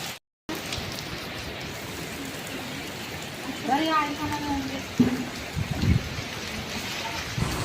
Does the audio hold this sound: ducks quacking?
no